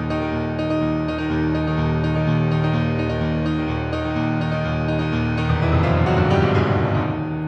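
A piano plays a song, both hands walking up chromatically in sustained, ringing chords that build steadily over several seconds and grow denser toward the end, played alone without talking.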